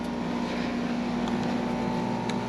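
A 12.5 kW Westerbeke generator runs in the engine room of a 1995 Lakeview aluminum-hull houseboat, a loud, steady, close mechanical drone with a constant low hum and no change in pace.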